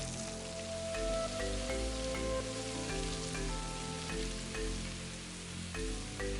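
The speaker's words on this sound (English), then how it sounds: "let those guys sizzle away" Shrimp sizzle and crackle steadily in hot oil at close range, a constant frying hiss with scattered pops and some faint tonal background sounds.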